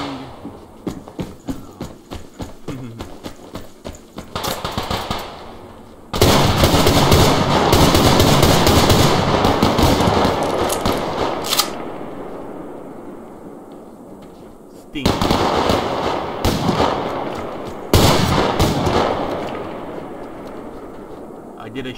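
Gunfire in the online shooter Survarium, with bursts of loud cracking shots and sustained automatic fire separated by quieter gaps, heard alongside game noise.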